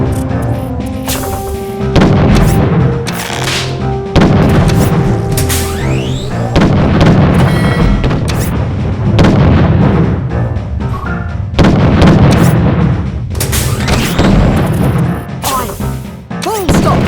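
Ship cannons fire in the Treasure Planet video game: a series of heavy booming blasts in irregular volleys, loud and close, each followed by crashing impacts, over a steady game soundscape.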